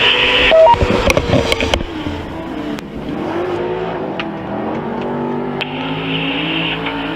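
Pro 2 short course race trucks roar side by side through the infield turn at a fairgrounds track, a loud, continuous engine drone with rising and falling revs and a few sharp transients early on, no talk.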